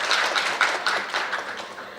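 An audience claps steadily to welcome the chairperson at a Bangladesh Internet Governance Forum session on e-commerce and cross-border data flow, a dense patter of many hands in a hall, gradually thinning toward the end.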